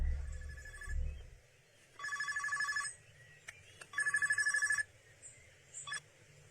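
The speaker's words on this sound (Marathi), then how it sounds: "तेव्हा साहेबांचा फोन आला." A telephone rings in two electronic bursts about a second long, separated by a pause, with a short low rumble at the start.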